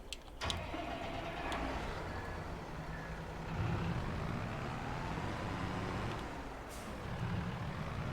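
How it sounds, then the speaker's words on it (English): A Claas tractor engine starts up in the farming game Farming Simulator 22, a quiet cranking burst followed by a low, steady idle rumble with a faint hiss near the end. "So now I can grab one of my tractors"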